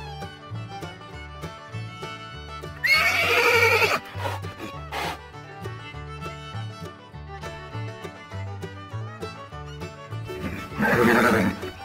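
Horses neigh and whinny in two loud, shrill bursts over a steady background of music, with separate pauses between the calls.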